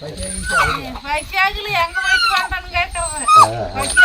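A dog being given food cries in rapid, high whimpering yips and whines, close by and repeated throughout, with a voice underneath.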